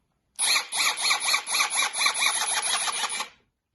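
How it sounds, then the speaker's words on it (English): A Ryobi cordless drill runs at speed for about three seconds, a high pulsing whine with rapid rhythmic wobble, close and loud, then stops; no talking over it. "Here we have a very nice Ryobi drill."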